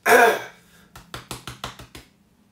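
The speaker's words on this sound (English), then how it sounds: "I'm going to give up on trying to clear my throat now" One rough, close throat clear, followed by a short run of six sharp clicks.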